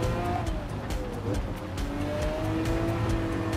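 A 2011 Lamborghini Aventador LP 700-4 with a V12 engine racing in Gran Turismo 7, its engine droning continuously with shifting pitch as it revs and changes gear, plus brief tire squeals, steady and fairly loud throughout.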